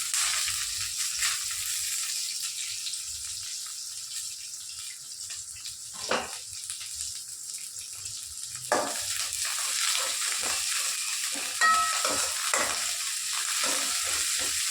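Mustard seeds, green chili, large onion and curry leaves fry in hot oil, giving a steady bright sizzle throughout with a few sharper crackles and pops scattered along the way, close and with no voices.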